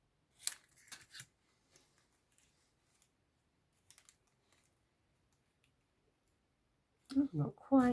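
Scissors snip paper for a stamping craft project in a few quick bursts early on, then go quiet with faint rustles, before a louder burst of close handling or snipping at the end; no talk.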